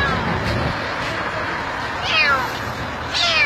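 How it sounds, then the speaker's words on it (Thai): A cat stuck on a bridge pier meows loudly twice, with short plaintive cries rising over a constant rumble of heavy outdoor noise. "แมวร้องตั้งแต่เมื่อคืนนี้แล้ว"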